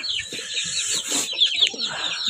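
Broody Kuchin hen clucking close by, low throaty grumbles mixed with short higher squawks in a steady murmuring run, with some chirping from other birds around.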